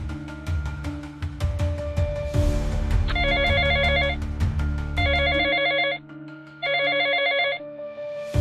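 A phone ringing unanswered indoors, its ringtone repeating in three bursts of bright electronic trilling over steady background hum and low household noise, with no voices.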